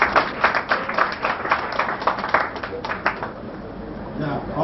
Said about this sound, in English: Can we clap for them again,